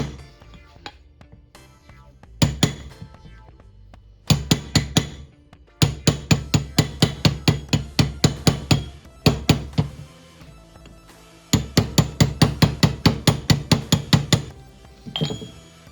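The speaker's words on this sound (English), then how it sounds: "Just give it a little taps. Until you hear it hit hard like that on the caliper." A hammer taps an O-ring seal into a front brake caliper from a 1971 C3 Corvette, in several close bursts of rapid, sharp metallic knocks separated by short pauses, with no talking.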